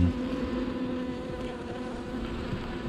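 Close, dense buzzing of a honeybee colony inside a hive, a steady droning hum without pauses and no voices.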